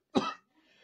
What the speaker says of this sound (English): Why am I coughing that way?